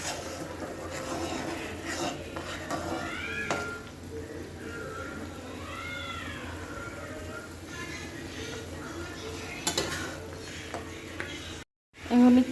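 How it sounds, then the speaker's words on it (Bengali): Ingredients for a sour Bengali dish sizzle steadily in hot oil, a soft, continuous frying hiss with occasional stirring clinks. A voice speaks faintly at times. "এখন এটা তেলের মধ্যে দিয়ে দিলাম।"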